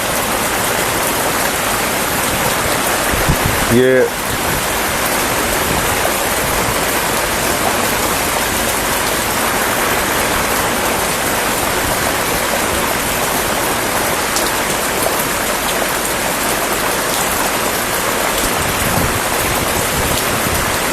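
Heavy rain pours down with water flowing, a loud, dense, steady hiss that continues throughout, broken only by a brief knock near the start.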